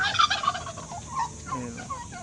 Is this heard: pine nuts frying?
no